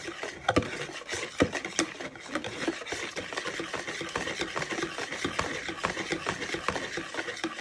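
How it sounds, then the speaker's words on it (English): Sunflower oil being stirred into carrot cake batter in a bowl: a steady run of scraping, rubbing strokes with a few sharper knocks, close and moderately loud, with no voices. "Now you poured in a little bit of sunflower oil, you want to start giving it a little bit of a stir so it starts to come together."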